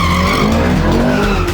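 A Ferrari California skids loudly and up close on slippery twisty roads, with a sustained screech of tyres over the engine's roar in a short burst.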